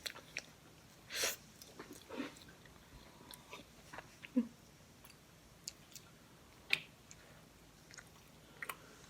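Soft, close chewing of tteok, a sticky Korean rice cake, heard as scattered moist bites and clicks spread across a quiet room with no talking.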